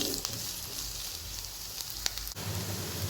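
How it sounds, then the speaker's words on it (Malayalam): Heavy rain falling outside a home kitchen while onions fry on the stove, a soft, steady hiss with scattered pattering and crackles and a low hum underneath, fairly quiet throughout. "പുറത്ത് നല്ല മഴയാണ് സൗണ്ട് ക്ലിയർ ഇല്ലെങ്കിൽ ക്ഷമിക്കണേ"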